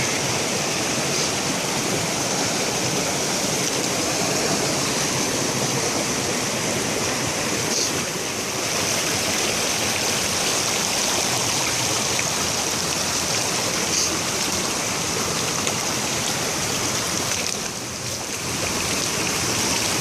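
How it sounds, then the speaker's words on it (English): Water pours and churns continuously, a loud, even rushing of a waterfall in American Fork Canyon heard up close with only slight dips in level. "Another waterfall right there."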